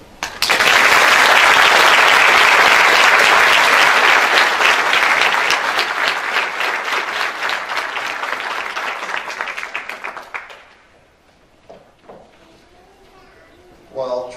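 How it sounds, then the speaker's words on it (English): A large crowd at a nurse anesthesia awards ceremony applauds loudly and steadily for about ten seconds, then the clapping fades out, leaving a quiet room with a few faint voices. "another round of applause for Tressie"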